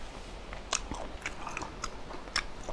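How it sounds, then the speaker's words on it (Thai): Chewing on a pen shell clam adductor muscle, a tough and springy shellfish, with wet close-up mouth sounds and a few sharper bites and crunches at irregular intervals, alone without talk. "เคี้ยวเพลินมาก หอยจอบ"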